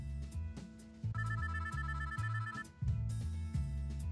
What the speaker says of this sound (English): I turn off the TV as my phone starts ringing.